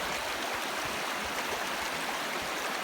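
A river on the Kungsleden trail in Sweden rushes in a steady, loud, close roar of flowing water that stays even and unbroken with no voices.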